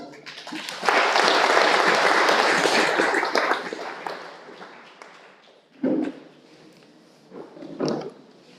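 An audience at a school career fair applauds to welcome a speaker, a dense burst of clapping that swells for about three seconds and then fades out, followed by a few scattered thuds and bumps.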